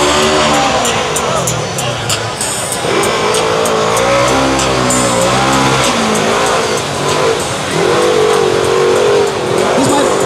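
An off-road bike engine roars and revs loudly and close at a redneck lawn dart competition, its pitch rising and falling as it runs, with people talking and shouting over it.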